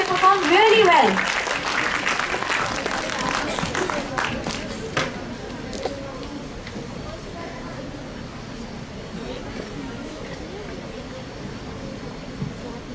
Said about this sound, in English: Can you have a huge round of applause for all of them?